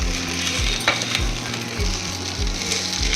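Drumstick leaves fry in a pan for a home-made powder, giving a steady close sizzle with low stirring scrapes that recur at a regular pace and no talk.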